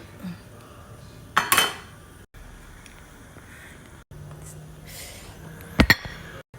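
A spoon stirs ginataang bilo-bilo mixture in a pot, giving occasional sharp clinks and scrapes of metal against the pot over a quiet background.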